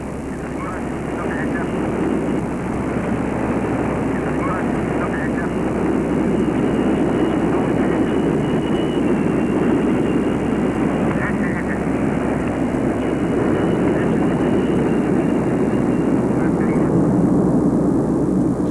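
Soviet military transport aircraft carrying parachute troops, engines in flight giving a loud, steady propeller drone that holds level throughout while a narrator speaks over it.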